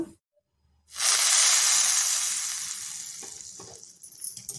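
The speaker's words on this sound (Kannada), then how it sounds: "ಈಗ ಸಾಸಿವೆ ಚಿಟುಗುಟ್ಟಿದೆ, ಇದಕ್ಕೆ ಹಿಂಗು ಹಾಕಿ ಒಗ್ಗರಣೆ ಹಾಕೋಣ" Mustard seeds splutter in hot oil for a tempering with asafoetida, made for a buttermilk sambar (majjige huli). After a second of silence a loud, close sizzle bursts in and then slowly fades, with small crackles throughout.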